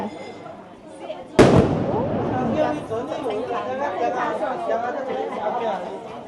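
A sharp, loud firecracker burst at a festival in Guangdong, followed by a crackling rattle of pops while a crowd chatters nearby and people talk.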